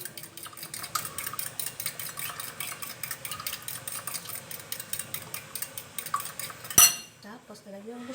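Two eggs for an omelet are beaten in a bowl, with a fast, steady run of close, clinking whisking taps of utensil on dish, then a sharp knock and a few softer clatters toward the end, with no one speaking.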